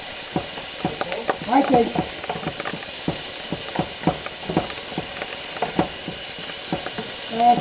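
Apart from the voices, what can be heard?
beef browning and sizzling in a pan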